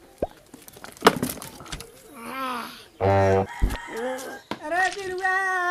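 A rooster crows nearby, its harmonic call rising and stretching out, mixed with clucking and other farmyard noises.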